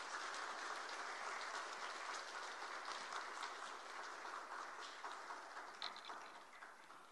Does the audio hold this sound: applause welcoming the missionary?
yes